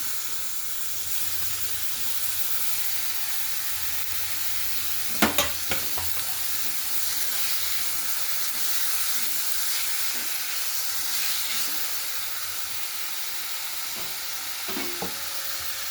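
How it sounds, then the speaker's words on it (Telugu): Tomato pieces frying in a pan for a sambar onion curry, giving a steady, even sizzle and hiss throughout with a few brief scraping clinks of stirring, no talking. "టమాటా ముక్కలు వేసేద్దాం"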